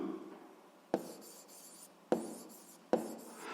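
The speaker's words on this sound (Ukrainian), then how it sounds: "І записуємо тоді відповідь." A pen scratches an answer onto paper in three short bursts of writing, each starting with a tap and a soft scratching stroke, close and quiet with no talk.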